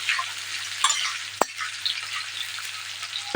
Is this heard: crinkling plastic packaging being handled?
no